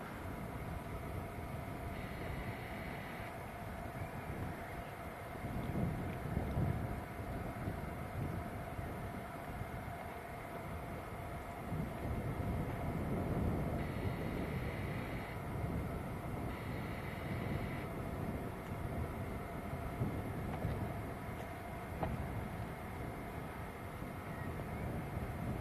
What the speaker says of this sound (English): Looks like an EasyJet's taxiing out.